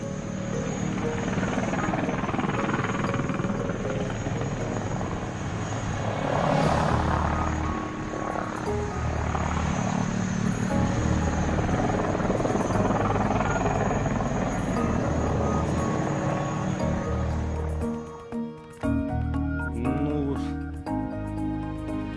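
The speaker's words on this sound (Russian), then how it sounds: "И следующий звук двигателя." A military helicopter engine and rotor drone loudly and steadily, played back as a sound sample during a quiz, the whine shifting slightly before cutting out near the end.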